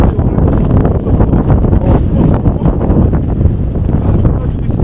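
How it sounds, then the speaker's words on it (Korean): Strong typhoon wind on Jeju Island buffets the microphone in a loud, continuous roar with gusting low rumble, heard outdoors near a camper van as the storm approaches. "와 태풍이 점점 바람이 세집니다."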